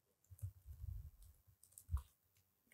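Keys clatter on a computer keyboard while text is entered in Notepad, a quiet irregular burst of close taps with short pauses.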